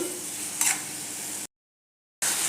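Tomatoes sauté in oil with salt for tomato bhaji, giving a steady soft sizzle, one brief stirring scrape, and then a short gap of silence before the frying resumes.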